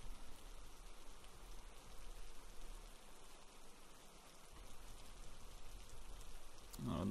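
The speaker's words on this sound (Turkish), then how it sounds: "Yağmuru bayağı bir artırmışlar ya. Çok yağıyor." Heavy rain falls steadily in the Hurtworld survival video game, a dense, even hiss of faint downpour continuing without pause, with a brief louder thump at the very end.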